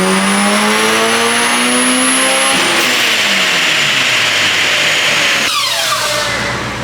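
A turbocharged Honda K-series engine swapped into a Nissan S14 revs hard on a dyno, loud and continuous, its pitch climbing, dropping at a gear change, then rising again with turbo whoosh near the end.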